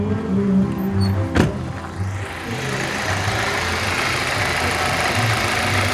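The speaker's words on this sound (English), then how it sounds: "the vehicle's actually idling much better right now" An Audi A4 engine with trouble code P0102 idles steadily with a low, even rumble, a brief sharp knock near the start, and faint background noise throughout.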